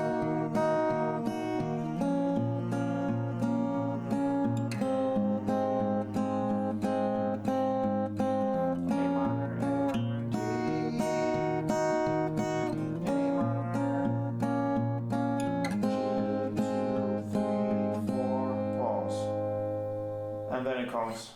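Acoustic guitar strumming the bridge of a song, steady chords ringing close and full for about twenty seconds, with no voices over it.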